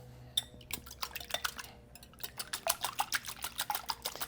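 A wire whisk beats eggs in a bowl, one egg per serving, at a home cooking demonstration. It makes quick, rhythmic metallic clinks and soft sloshing against the bowl, fairly quiet and close, with no talking.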